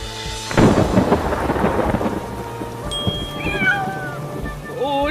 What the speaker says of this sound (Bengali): আরে, বিড়ালের ডাক শুনলাম মনে হলো